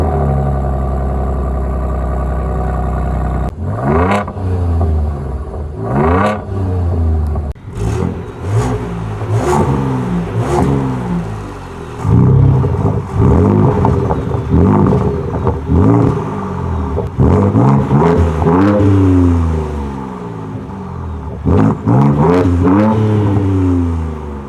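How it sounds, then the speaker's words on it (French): A Ford Ranger Raptor's 3-litre V6 EcoBoost revs and accelerates hard in the Namibian desert, rising in repeated loud surges and gear changes that sweep up and fall back, with a steady engine drone throughout and no talk. "Il chante pas mal ce 3 litres V6 EcoBoost."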